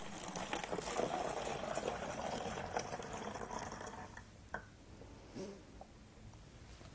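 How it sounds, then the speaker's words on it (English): Hydrogen peroxide is poured through a funnel for an elephant toothpaste experiment, a faint, steady liquid trickle and gurgle that tapers off, followed by a few small clinks. "So I'm going to pour in my hydrogen peroxide."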